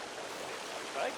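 A waterfall in the game Sons of the Forest gives a steady, broad rushing roar of falling water, fairly faint and continuous, with a voice briefly heard over it.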